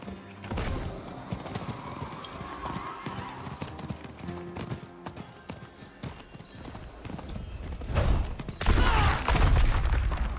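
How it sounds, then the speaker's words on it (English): Horse hooves clip-clopping as a rider gallops through a town in Diablo 4, a quick steady rhythm amid game sound effects, growing louder with a heavier burst near the end. "Just rode my horse over him."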